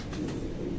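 A brief, low pigeon coo on a rooftop where grain and water are put out, one soft murmur lasting under a second, near and fairly quiet, with no voices.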